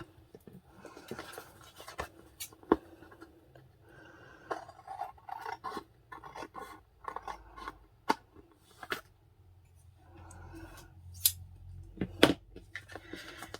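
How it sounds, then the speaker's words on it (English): Scissors trim the edges of a paper envelope, giving quiet, scattered snips and scrapes with a few sharper clicks of the blades and pauses between cuts. "if you're trimming the sides, be careful that you don't actually cut open the envelope"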